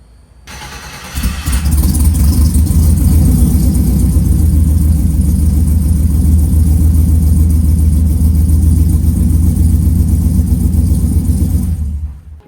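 A car engine cranks and catches, then idles with a steady low rumble and slight revving throughout, close by, before cutting off at the end.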